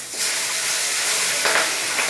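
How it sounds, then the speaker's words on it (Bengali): Fish fry in hot, spattering oil, giving a loud, continuous hiss and sizzle with brief flare-ups of crackle near the end, with no voices. "মাছগুলো ভেজে নিচ্ছি, খুব ছিটকাচ্ছিল তেল, খুব তেল ছিটকায় এই মাছগুলোতে।"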